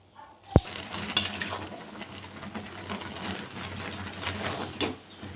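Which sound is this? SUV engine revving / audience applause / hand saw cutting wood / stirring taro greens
stirring taro greens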